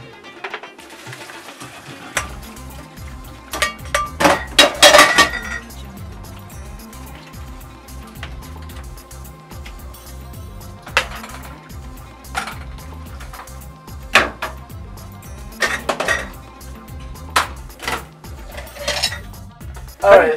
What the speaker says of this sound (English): So now we're going to start draining our macaroni and adding everything to the rice.